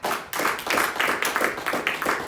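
A church congregation claps during a sermon, a brisk, fairly close patter of hands in uneven bursts that swells and dips over a couple of seconds, with no speech over it.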